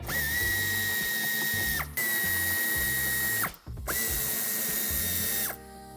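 A power tool with a Torx 30 bit whirs and ratchets in three long bursts with brief pauses, loosening screws on a 2016 Fiat Tipo SW during a tow hitch installation, close and alone.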